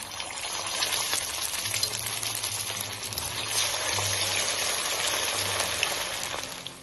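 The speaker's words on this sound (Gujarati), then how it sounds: "હવે આપણે કટલેસને ફ્રાય કરી લઈશું" Fasting-style cutlets fry in hot oil with a steady, even crackling sizzle that stays loud and close throughout, with no voices.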